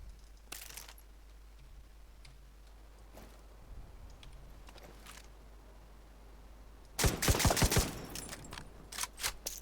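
M60 machine gun firing in The Division 2, a few distant isolated shots at first, then a loud, rapid close burst near the end over a steady low hum.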